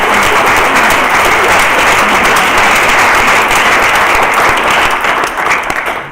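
Loud, close applause from a conference audience at a closing plenary, a thick continuous roar of many hands clapping that eases off only at the very end.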